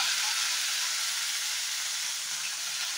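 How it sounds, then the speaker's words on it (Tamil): Cumin, mustard seeds, green chilli and curry leaves crackle in hot oil in a pan, giving a close, steady, bright hiss that carries without a break and without any voices. "ஜீரகம் கடுகு போட்டிருக்கேன். இது நல்லா பொரியட்டும்."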